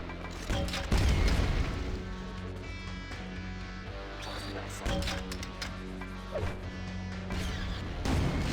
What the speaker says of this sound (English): I was hoping the grenade would be a perfect like shot there on that flying one